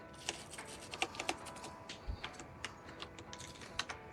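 Clicky tapping on a computer keyboard with a faulty D key, irregular keystrokes at a quiet, close level with no talking.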